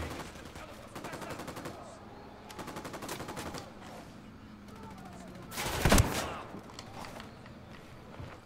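Distant bursts of rapid automatic gunfire rattle in repeated volleys during combat in Tom Clancy's Ghost Recon Wildlands, broken by one louder, closer shot near the end.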